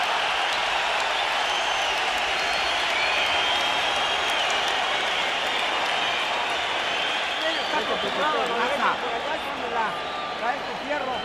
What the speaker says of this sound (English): A fight breaks out in the middle of the boxing match, and the crowd goes nuts.